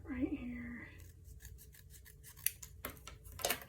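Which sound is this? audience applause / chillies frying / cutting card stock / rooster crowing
cutting card stock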